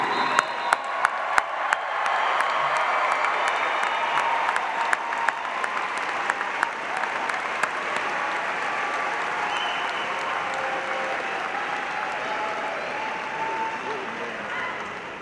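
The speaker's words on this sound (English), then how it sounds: "Really loud round of applause for our newest graduates." A large crowd at a university graduation ceremony applauds loudly and steadily for the new graduates, with a few sharp claps standing out at first, the dense clapping holding for the whole stretch and tapering slightly at the end.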